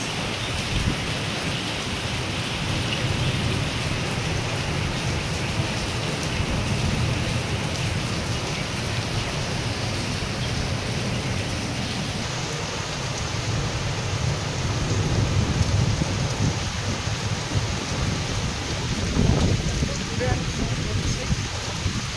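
First rain of the year falling at night, a steady dense hiss of rain on surfaces with low rumbling thunder underneath, growing slightly heavier toward the end.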